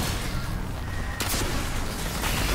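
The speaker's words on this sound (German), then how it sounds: "Und dann ja, schießt er halt zwei Raketen." A rocket launcher fires two rockets in the shooter Destiny 2, a dense roaring blast with a sharp second report midway, loud and continuous against game noise.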